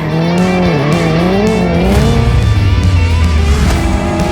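A Hyundai N car drifts with a loud, sustained tire squeal over a roaring engine whose pitch rises and falls, close and continuous.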